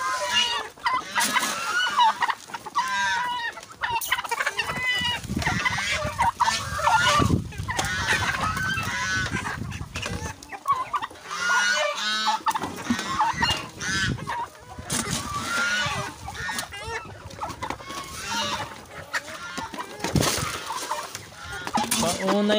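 Hungry baby geese honk and peep continuously and loudly, a dense chorus of overlapping calls close by, with faint talk mixed in.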